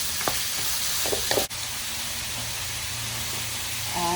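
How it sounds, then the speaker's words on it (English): Ground turkey for Hmong egg rolls fries in a pan with a loud, steady sizzle, punctuated by a few utensil taps and stirring scrapes, with no talking. "So you wanna cook your turkey"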